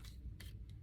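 Two quick, crisp snips of scissors cutting straight across a sheet of paper, close by over a low background hum.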